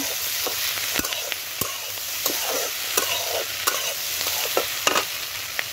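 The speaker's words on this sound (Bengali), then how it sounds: "আদা বাটা, জিরে বাটা, ধনে বাটা সব একসাথে দিয়ে নেব" Ginger, cumin and coriander pastes fry in a pan for a Bengali puti fish curry, giving a steady sizzle with repeated sharp scrapes and taps of a spoon stirring against the pan.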